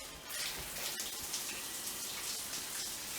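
A hotel shower with a fixed, non-detachable head runs with decent pressure, a dense hiss of spraying water splashing steadily onto the floor, close and continuous throughout.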